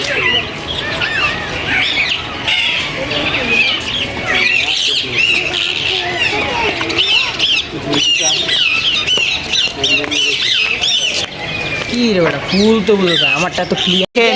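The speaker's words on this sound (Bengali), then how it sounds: "এই জায়গায় পাখিগুলো কিচিরমিচির করতেছে" Small birds at a zoo in Chattogram chirp and squawk in a busy, continuous chatter of quick, high calls, fairly close and steady throughout.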